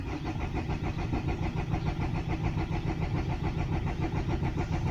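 Car engine turning over and catching, settling into a steady close running rumble with continuous rhythmic pulsing throughout, loud and alone with no talking.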